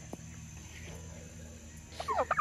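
Turkeys gobbling in a short burst near the end, a few rapid rattling calls over a quiet background hum after a stretch of near silence.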